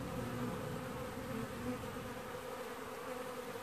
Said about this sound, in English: Beautiful hum coming from these bees today.